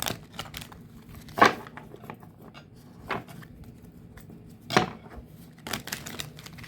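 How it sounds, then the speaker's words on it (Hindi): Tarot cards are shuffled by hand, soft close papery riffles and slaps in irregular bursts against a quiet background. "पर मैं हमेशा शफल ही करके बताती हूँ।"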